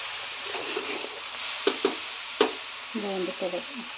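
Coconut laddu mixture stirred and fried in a pan, a low sizzle under a few sharp spoon knocks against the pan, with a voice speaking briefly near the end.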